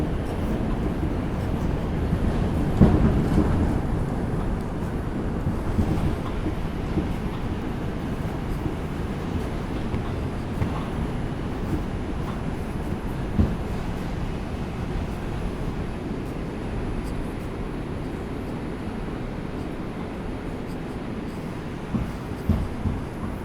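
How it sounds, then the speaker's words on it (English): An R142 subway train on the 5 line runs between stations, its steady low rumble and rail roar continuing for over twenty seconds with occasional clanks and jolts and no talk. "This is an Eastchester bound 5 local train"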